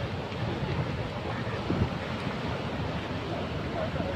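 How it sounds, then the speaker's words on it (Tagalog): Strong water flowing down from the mountains in Kayapa, Nueva Vizcaya, heard as a steady, rushing roar of broadband noise, moderately loud and unbroken throughout, with no clear talk over it. "Malakas na agos ng tubig mula sa kabundukan."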